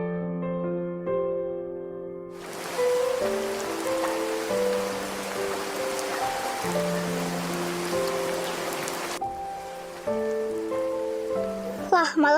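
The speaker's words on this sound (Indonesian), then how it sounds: "Wah, malah hujan gede lagi." Heavy rain in the Sakura School Simulator game pours as a dense, steady wash of noise, starting abruptly over a gentle background music melody and then cutting off near the end.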